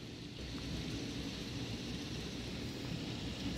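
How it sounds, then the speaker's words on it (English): Heavy rain pours steadily in a dense, even hiss, with a low rumbling undertone and no voices. "Yeah, the rain is strong."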